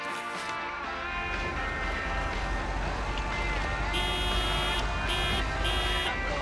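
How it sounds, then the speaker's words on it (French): A car horn honks in the video game Lake, sounding in a few short blasts over constant engine and road noise from a moving vehicle on a snowy Christmas drive. "Je sais pas à quoi ça sert de klaxonner,"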